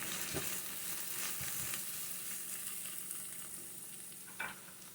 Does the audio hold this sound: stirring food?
yes